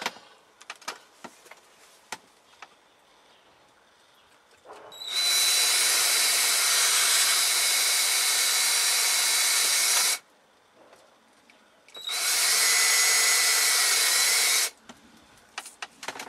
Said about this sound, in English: I'm using Jace's drills